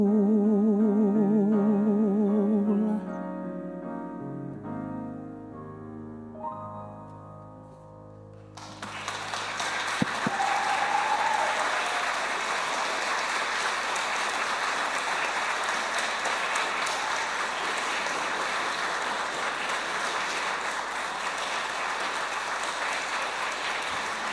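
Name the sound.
audience applauding after a recital performance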